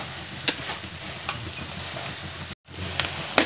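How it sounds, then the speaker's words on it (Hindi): Onions frying in a kadhai give off a steady, close sizzling hiss with a few faint stirring clicks, broken by a brief silent gap before the hiss resumes. "प्याज हो रहे हैं फ्राई"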